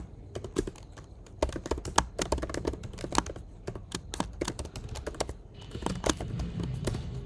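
Code being typed on a computer keyboard: rapid, irregular clatter of close key presses with short pauses, heard alone.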